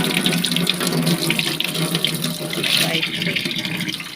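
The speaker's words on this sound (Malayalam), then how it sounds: "ഞാൻ കറിവേപ്പില കഴുകാണ് കേട്ടോ" Curry leaves are washed under a running tap, steady hissing water splashing close and loud throughout, with a faint voice murmuring beneath the flow.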